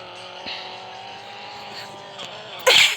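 A car rams another car in the mobile driving game Extreme Car Driving: a steady engine drone is topped by a short, sharp crash burst near the end.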